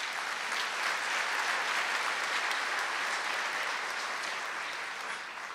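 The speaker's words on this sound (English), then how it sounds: "Can you please give our musicians a round of applause?" A large graduation ceremony audience applauds the musicians, a thick, sustained roar of many hands clapping that stays loud and even throughout, easing slightly at the close.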